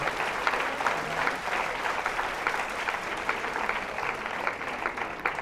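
An audience applauds a contestant leaving a fashion competition show with steady, dense clapping that holds at an even level throughout.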